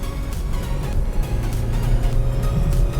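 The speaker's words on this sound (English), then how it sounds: "The diesel's quite noisy, but the car does grip quite good, you know." Inside a 2020 BMW 3 Series G20 M Sport with a diesel engine, lowering springs and bigger tyres, a steady low engine and road rumble drones on while driving, with no talk.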